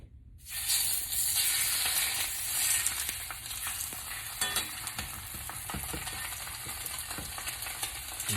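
A red snapper fillet lowered into hot oil in a pan bursts into loud sizzling, then settles into a steady close crackle with small clinks of the pan.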